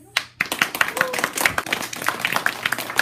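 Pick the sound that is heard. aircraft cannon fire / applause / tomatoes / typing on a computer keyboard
applause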